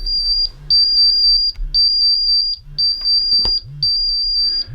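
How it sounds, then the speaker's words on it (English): A gas detector alarm at its limit, reading 19.5, sounds four long, loud, high-pitched beeps in a steady rhythm with short gaps between them, alone with no talk. "we're right at the alarm limit"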